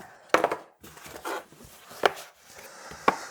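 A NuPhy Air 96 keyboard box is opened, giving several sharp cardboard knocks and scrapes spaced about a second apart, with soft rustling between them and no talk.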